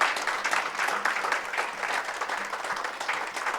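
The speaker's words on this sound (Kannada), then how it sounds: "ದಯವಿಟ್ಟು ಜೋರಾಗಿ ಚಪ್ಪಾಳೆ." An audience claps steadily through a dialysis centre's anniversary event, the applause moderately loud and continuous with a fluttering texture of many hands, and no talk over it.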